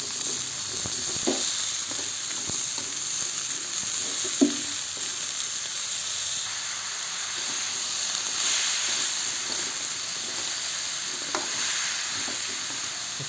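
Long beans stir-fried in a pan with tempe and palm sugar, a continuous bright hiss of frying oil punctuated by occasional soft scrapes and taps of stirring.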